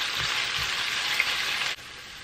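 Vegetables frying in a pan over low to medium heat, a steady close hiss and sizzle that drops off abruptly near the end.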